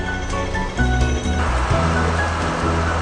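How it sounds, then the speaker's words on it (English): Steady, dense roar of heavy rain pouring down, loud and continuous with a slight shift in tone midway, no voices. "Oh my goodness, it is raining. The rain is big."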